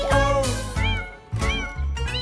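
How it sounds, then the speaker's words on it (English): Cat meows sung within a children's nursery rhyme about a farmer's cat, several loud drawn-out melodic meows in a row over backing music. "There was a farmer who had a cat, and Bingo was her name"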